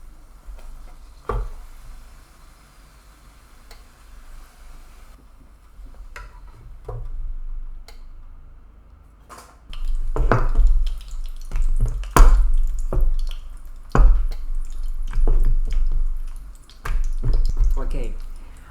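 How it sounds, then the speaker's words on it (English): Torta frita dough fries in a pan of oil, giving a faint crackle that grows into louder, busier popping and sizzling in the second half, with scattered sharp spits. Nobody talks during the frying. "Wow, how it's bubbling!"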